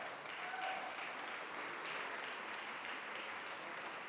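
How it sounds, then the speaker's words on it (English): An audience at an annual mayor's arts awards ceremony gives a round of applause, steady even clapping from many people, heard faintly and distantly throughout. "Can we have a round of applause for that?"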